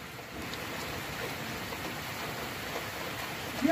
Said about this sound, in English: the rain's come down so hard